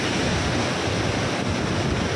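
Spray and rushing water from a waterfall at Sikhar Fall near Dehradun, heard close up as a loud, steady broadband roar with wind buffeting the microphone throughout.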